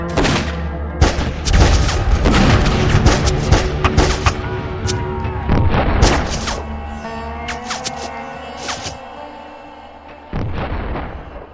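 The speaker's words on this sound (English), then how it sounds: "Then a gunshot rang out." Gunfire in an armed standoff between rifle-carrying strikers at Homestead and Pinkerton agents: a rapid barrage of loud, sharp shots and heavy booms, some overlapping like volleys, with echoing tails and no voices.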